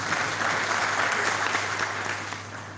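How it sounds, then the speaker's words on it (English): Audience clapping at a youth symposium, a continuous dense round of applause that stays strong and then eases slightly toward the end, with no talk over it. "Can you clap for that?"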